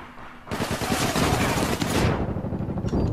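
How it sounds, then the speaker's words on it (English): Rapid shotgun blasts in the online shooter APB Reloaded burst out after a short quiet lead-in, a loud, dense volley of close gunfire lasting about two seconds before trailing into rougher noise. "Shotgun from the other side."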